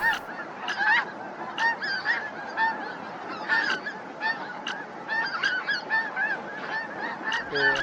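A flock of snow geese wintering at Hachirogata in Akita Prefecture, Japan, honking continuously, with many overlapping calls at mixed distances forming a dense, steady chorus and no talking.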